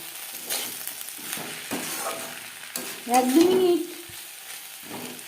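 Onion stalks frying in a pan over a gas flame, seasoned with salt while being stirred: a steady close sizzle with repeated scraping stirs and a louder swell near the middle.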